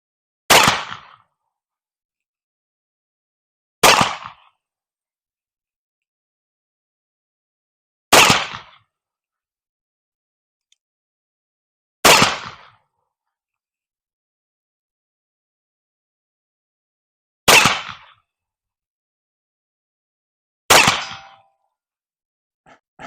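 Six sharp shots from a Leech & Rigdon cap and ball revolver, a Confederate-style black powder pistol, fired at a target with steel behind it, each loud crack well spaced about four seconds apart with quiet between.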